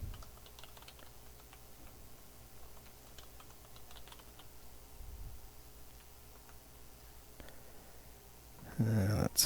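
Keys tapped on a computer keyboard while entering a username and password during Raspberry Pi single-board computer setup, soft scattered clicks close by, ending in a louder burst of handling noise.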